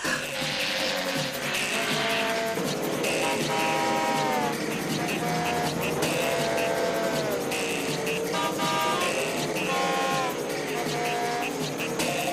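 Continuous roar of vehicles racing past on a motorway, engines whining and tires squealing over a dense rumble of heavy traffic, loud and unbroken throughout.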